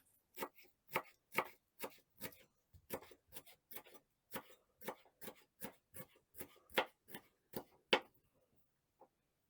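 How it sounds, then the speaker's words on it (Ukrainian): A knife chops through onion on a cutting board, a steady run of about twenty crisp, close knocks at an even rhythm, then stops; no talking. "Поріжу цибулю, щоб зверху притрусити кочурбу"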